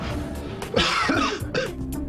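Rough, throaty coughing and throat clearing, several short harsh bursts close to the listener, spaced unevenly over a couple of seconds.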